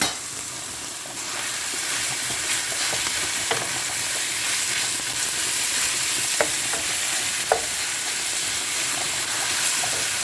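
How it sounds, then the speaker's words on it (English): Ground beef hits a hot pan and sizzles loudly and steadily throughout, with a few faint clicks of stirring under the continuous hiss. "I am going to add my beef"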